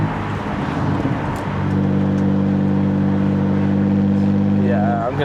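BMW 125i with the N52 engine accelerating on a drive, its smooth, linear engine note climbing steadily and loud from inside the car, with speech present in the clip.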